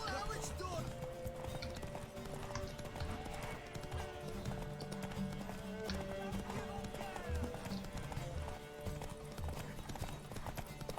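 A horse's hooves clip-clop steadily in The Witcher 3 while in-game characters talk, with game music and ambient sounds mixed in.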